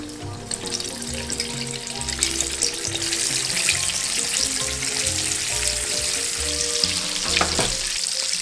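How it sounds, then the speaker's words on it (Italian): Paccheri frying in hot oil at 170 degrees give a loud, steady crackling sizzle up close, with brief clinks of forks stirring and no talk. "Apriamo le finestre e cominciamo a friggere."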